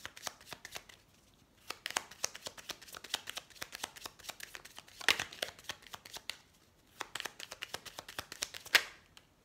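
A tarot deck being shuffled to draw a synthesis card: rapid, dense papery riffling in several long runs separated by brief pauses, close and soft with no voice over it.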